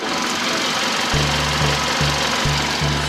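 A well-maintained gasoline car engine idles quietly and evenly with the hood open, heard close up as a steady low hum with a faint rhythmic pulse.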